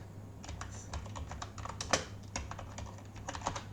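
Rapid clicks from a computer keyboard as a command is typed at a command prompt, close and crisp key taps in uneven bursts over a quiet hum.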